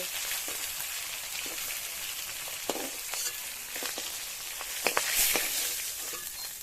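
Ritha fish fry in hot oil with a dense, steady sizzle and crackle, occasional sharper pops and spatters breaking through, heard from a short distance.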